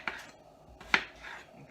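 A knife chops potatoes on a cutting board, two or three crisp close taps spaced apart in an otherwise quiet kitchen.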